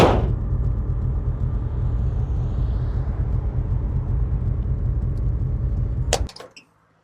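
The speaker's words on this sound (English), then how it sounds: "Now a plane's going over top." An airplane passing overhead outdoors gives a steady, loud low rumble that holds for about six seconds, then cuts off abruptly.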